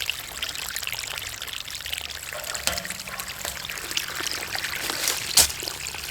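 Rusty water pouring and trickling out of an old salvaged well tank at a mobile home, a steady splashing stream with a few sharper knocks, close and fairly loud, no voices.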